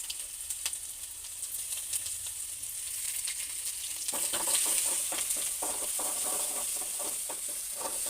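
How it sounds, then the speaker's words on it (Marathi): A paste of green chilli, coriander and cumin sizzles in hot oil, a steady bright hiss with scattered crackles that grows busier midway, close and continuous, with stirring and no voices. "एक हिरवी मिरची व को हे कोथिंबीर थोडी व जिरे याची पेस्ट प्रथम आपण तेलामध्ये टाकून देऊ"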